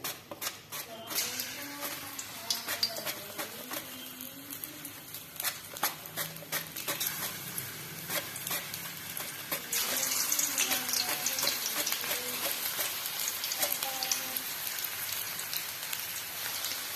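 Banana slices for homemade chips hissing as they fry in hot oil in a kadhai, a dense continuous crackling sizzle that swells louder midway, close up, with faint speech now and then.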